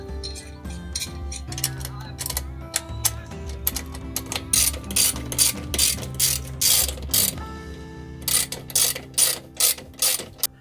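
Metal wood stove pipe twisted into place during a tiny wood stove install in an Airstream, giving a dense run of close, loud clanks, scrapes and ratchety metallic clicks that grow sharper and more rhythmic toward the end.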